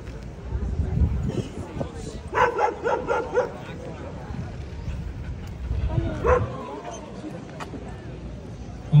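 A trained Belgian Malinois guard dog barks in rapid repeated bursts during a police demonstration, loud and close over crowd chatter and handling noise, with a second flurry of barks later on.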